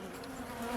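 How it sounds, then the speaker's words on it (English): A brief, close drone of honey bees buzzing at a hive in winter, a steady humming whir with no voices. "There's bees up at the top too."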